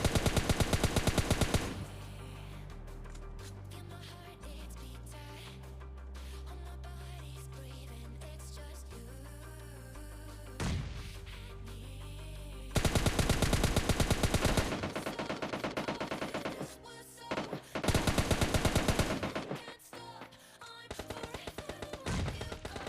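Automatic weapon fire in PUBG Mobile Lite, a solo-versus-squad match: loud bursts of rapid gunshots in several dense stretches, with game music and effects running between them.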